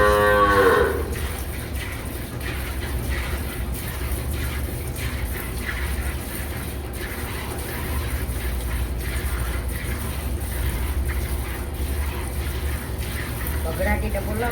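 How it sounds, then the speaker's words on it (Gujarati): A cow on a village farm gives a loud, close moo at the start, followed by steady background noise and faint activity, with another low bovine call building toward the end. "ગાય ની બગલાટી બોલાવા જોઈએ."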